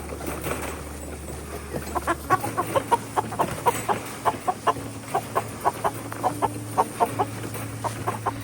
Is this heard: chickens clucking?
yes